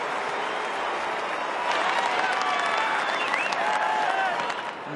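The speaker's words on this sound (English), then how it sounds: "Bate at last gives the Melbourne supporters a goal to cheer for" A large stadium crowd at an Australian football match between Melbourne and Collingwood cheers and applauds a Melbourne goal, a loud sustained roar with whistles that swells midway and holds steady.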